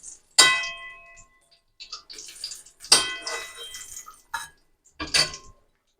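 Sharp metallic clangs and scrapes as fried eggplant is moved into a steel tiffin box, several distinct hits separated by short pauses.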